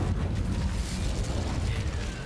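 A fire spell in a Harry Potter video game bursts with a deep whooshing roar and rumble that swells at once and crackles for a couple of seconds; no voices are heard over it.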